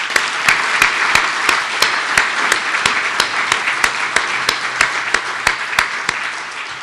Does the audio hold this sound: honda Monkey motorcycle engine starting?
no